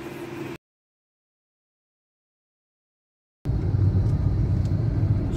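A car drives along on the way to a herbal park, with a steady loud engine and road rumble after a stretch of silence.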